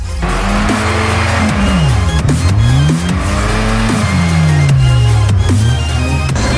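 A UAZ fitted with a 1JZ engine drifts at a winter drift competition. The engine is loud and close, its revs swooping up and down continuously while tires squeal and hiss throughout.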